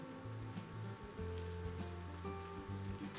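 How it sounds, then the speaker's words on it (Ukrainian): Eggplant slices fry in oil in a well-heated pan, producing a continuous close sizzle and crackle with a low hum beneath, steady for several seconds and free of speech. "Тепер обсмажуємо баклажани на добре розігрітій сковороді на олії для смаження до красивої рум'яної скоринки."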